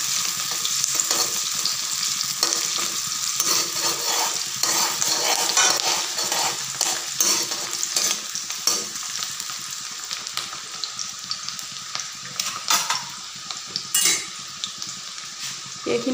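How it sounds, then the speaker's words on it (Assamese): Whole cumin seeds and two bay leaves fry in hot oil in a pan for a raw banana and masoor dal curry, giving a steady, close sizzle with occasional utensil clinks throughout. "এইখিনি মই অলপ সময় ভাজি ল'ম"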